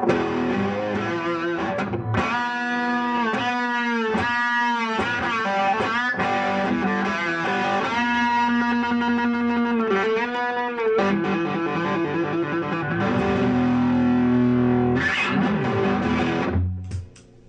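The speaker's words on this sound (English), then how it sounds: "I've got kind of a thrashy, distorted sound" Heavily distorted electric guitar through a Fender Deluxe Reverb reissue tube amp plays chugging chords and riffs, loud and sustained, with a brief pause near the end before fading out.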